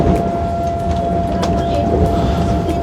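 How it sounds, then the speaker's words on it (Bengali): A Vande Bharat Express train roars along at about 124 km/h with a loud, constant rumble and rattling wheels, a steady tone whining above the noise. "ট্রেন এখন একশো চব্বিশ কিলোমিটার পার আওয়ার স্পিডে যাচ্ছে"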